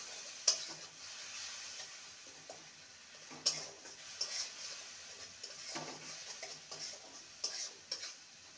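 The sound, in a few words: stirring okra curry in a pan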